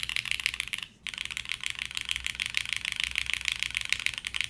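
Steady typing on a Yujin TKL keyboard with Cherry MX Hyperglide switches and a polycarbonate plate in a top-mount case, a dense, fast run of close, clacky keystrokes broken by one short pause.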